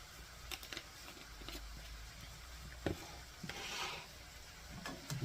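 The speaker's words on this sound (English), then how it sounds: "And get that all stirred into there." Quiet scraping and rubbing of a utensil stirring seasoning into a shrimp taco mixture in a pan, with soft irregular scrapes, a few sharper knocks and a faint background sizzle.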